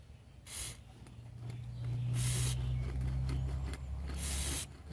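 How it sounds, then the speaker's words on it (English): Aerosol lubricant sprayed onto a wheelbarrow wheel bearing on a small table, three close hissing bursts, the middle one longest, with a low hum underneath. "Just want to spray it and kind of try to work it down into that bearing."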